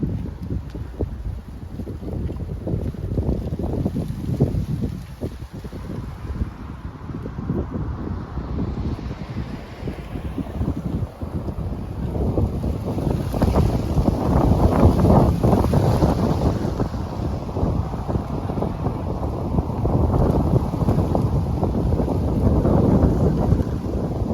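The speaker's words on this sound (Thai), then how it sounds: "เดี๋ยวเราจะให้ได้ยินเสียงลมกระทบใบไม้ซะหน่อย" Wind blowing through tree leaves on a street in Cairns, Queensland, Australia, a steady broad rushing roar that swells louder midway, with heavy gusts buffeting the microphone.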